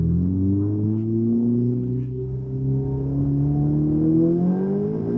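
A Ferrari 488 engine in race mode hums and rises in pitch as it revs, steady and close, with no talking.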